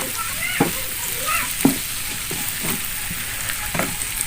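Green beans, egg and tempeh sizzle steadily in a pan, with a spatula scraping and clacking at irregular intervals as the mix is stirred, close and moderately loud.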